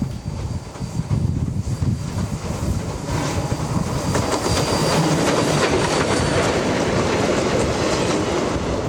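A passing train recorded on an on-camera microphone, with steady loud rumble and clickety-clack of wheels on rails plus wind buffeting throughout, no voices.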